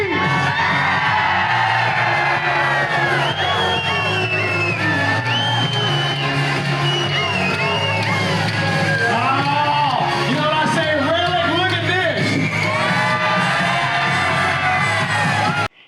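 A large outdoor crowd at a holiday gathering in The Villages, Florida screams, whoops and cheers continuously, loud and close, with overlapping yells and shouts and no pauses.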